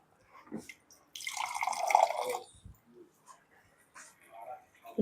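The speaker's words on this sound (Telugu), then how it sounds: "నీళ్ళు కడిగి పోసుకున్నాం" Water is poured into a cooking pot in a home kitchen for an egg and taro curry, a brief splashing gush followed by light drips, close, with scattered speech around it.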